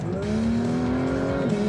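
A Porsche driven hard on a race track gives a loud, close, sustained engine note that holds a steady pitch and then dips briefly near the end, with no talk over it.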